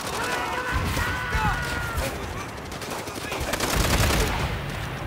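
Dense gunfire from the World at War co-op video game, rapid machine-gun bursts and overlapping shots forming a continuous loud fusillade, with players' voices talking over the battle.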